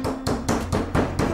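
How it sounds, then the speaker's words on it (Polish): A meat mallet pounding beef slices for Silesian beef roulades, five or six firm, evenly spaced thuds on a board, close and loud, with no talking. "Na jednym kawałku mięsa Państwu pokażę, jak to rozbijać."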